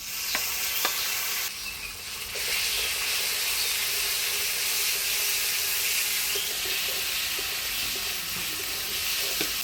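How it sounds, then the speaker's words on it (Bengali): Ground spice paste of coriander, cumin, ginger and chilli frying with chopped semolina arum (suji kochu) already browned with turmeric and salt, a steady close sizzle and hiss throughout with a few scraping stirs. "এবার দিয়ে দেবো বাটা মশলা, ধনিয়া জিরা আদা বাটা, লঙ্কা বাটা।"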